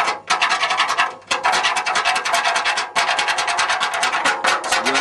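Rapid back-and-forth rasping strokes rub rusty Jaguar bodywork down toward bare metal, a close, loud, steady scouring with two brief pauses between bursts.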